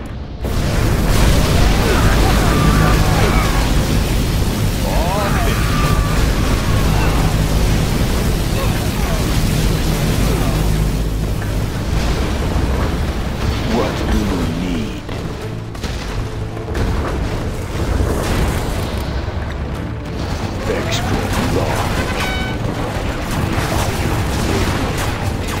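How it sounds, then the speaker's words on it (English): A particle cannon strike in a Command & Conquer game rumbles as a sustained, loud, roaring blast that fills the whole stretch, with a game voice announcing over the din. "Particle cannon activated."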